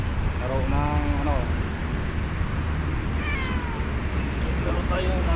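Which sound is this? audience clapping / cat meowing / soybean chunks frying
cat meowing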